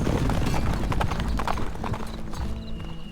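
Horses gallop in the Stronghold Legends video game, a dense run of rapid hoofbeats close and loud, with a brief whinny and no speech.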